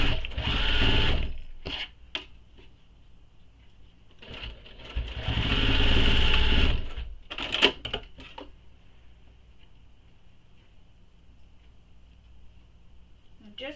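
A sewing machine stitches a basting line across a short edge of a crossbody bag panel in bursts: a brief run, a short stitch or two, a longer whirring pass, then scattered short clicks and a quiet hum.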